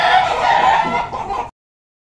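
Chickens cluck loudly and close by in a dense burst, with a rooster-like crow mixed in, before cutting off abruptly into silence.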